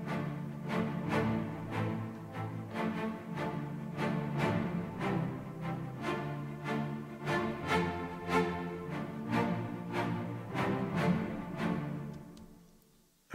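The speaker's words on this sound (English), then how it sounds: "And on its own, the Celli sound like this." Short, bouncy spiccato cello notes play in a steady rhythmic pattern, each note crisp and detached, fading out at the end.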